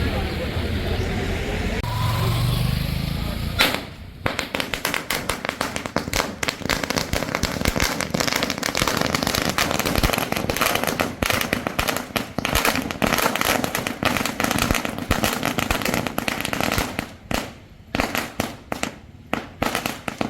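Firecrackers burst in dense, crackling strings at an election victory celebration in the Nilgiris, loud and continuous with brief lulls, under crowd noise and voices.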